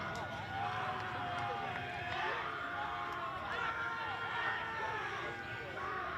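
Milford home crowd at a Legion baseball state tournament game against Franklin, a steady roar of cheering and crowd noise that holds throughout, with a commentator talking over it.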